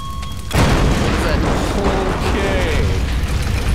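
An explosion in the Tomb Raider game hits suddenly with a loud blast and then a rumbling, crackling aftermath of debris, close and heavy, with a voice speaking over it.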